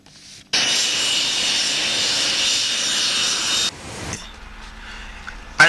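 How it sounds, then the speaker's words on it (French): A presidential airplane on the tarmac at Liomba International Airport gives off a loud, steady jet-engine roar for several seconds. It then cuts off sharply to a lower background rumble. "l'avion présidentiel foule le tarmac pour accueillir le président de la République sœur de Guinée équatoriale"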